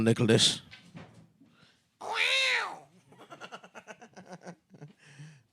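A house cat meows indoors in a loud, drawn-out cry, with a short sharp call just before it and people talking and laughing close by.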